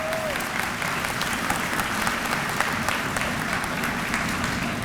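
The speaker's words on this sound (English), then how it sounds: "Please give them a round of applause." A crowd at a Winter 2018 commencement ceremony gives sustained applause honoring women's bowling conference champions, with dense, even clapping from many hands and no break.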